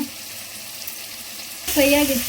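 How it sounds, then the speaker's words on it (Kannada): Ginger, garlic and green chili paste frying in a pan for vegetable pulao, a steady low sizzle that turns louder and brighter near the end, with a voice briefly mixed in. "ಈಗ ಚೆನ್ನಾಗಿ ಫ್ರೈ ಆಗಿದೆ ಫ್ರೆಂಡ್ಸ್"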